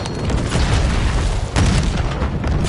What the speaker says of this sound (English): Toss a thermo grenade